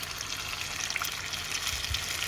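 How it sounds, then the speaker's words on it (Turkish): Water pours into a pot of tomato rice pilaf, a soft continuous gushing trickle at close range with no talk. "Bu arada suyumuzu verelim."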